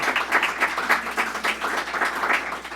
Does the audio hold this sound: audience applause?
yes